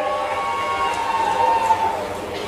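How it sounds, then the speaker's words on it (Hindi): An audience at a chief minister's political speech applauds with dense, steady clapping that blurs into a rain-like wash, held at an even level throughout with a faint crowd murmur underneath. "बालकृष्ण पाटीदार जी के लिए जोरदार तालियां बजाए"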